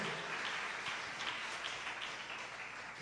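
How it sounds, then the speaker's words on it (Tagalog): A church congregation at a Filipino Christian worship service claps and applauds together in a dense, continuous wash of sound that stays steady throughout, fairly distant and moderately quiet. "pumalakpak ng napakalakas sa ating mahal na Panginoon"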